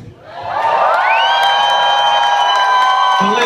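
Concert crowd at a live indie rock show in a Copenhagen venue cheers and whoops loudly, a dense sustained roar of voices swelling within the first second and holding steady to the end.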